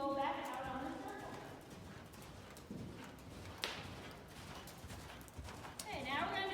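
Hooves clip-clop in a steady rhythm as a horse circles a handler during groundwork, with a person talking over them through most of the stretch.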